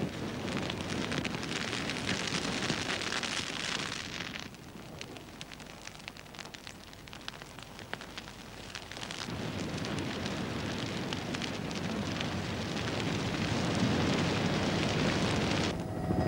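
Fire burning through Australian desert vegetation, a dense, steady crackling roar that dips quieter for several seconds midway before swelling back to full strength, with no voices.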